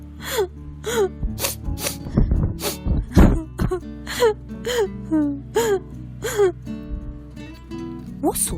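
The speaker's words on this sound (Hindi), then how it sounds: "थोड़ा आगे चलने पर उसे रोने की आवाज सुनाई दी" Loud, close sobbing and crying in a children's cartoon story, repeated wailing whimpers and gasping breaths in an uneven rhythm, with sniffles between sobs.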